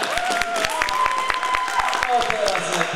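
Applause from spectators at a Puszczykowo ice rink for a young figure skater. Scattered sharp claps ring over music with sustained tones and a speaking voice.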